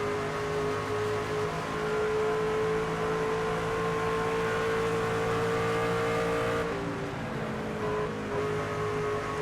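Race car engine in the NASCAR 25 video game, a loud steady roar with sustained high pitched whine that drops and shifts near the end, running alone without talk.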